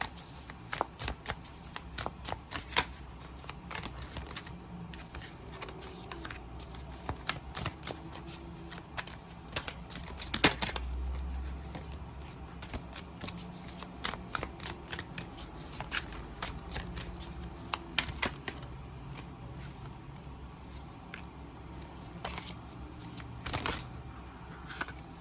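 A deck of tarot cards being shuffled close up over about twenty-five seconds, with repeated crisp riffling and slapping bursts at an uneven rhythm, fairly quiet, with no talking.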